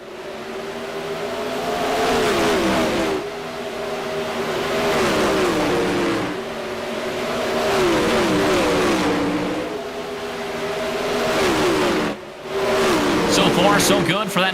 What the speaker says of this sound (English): 6 cars out there on the raceway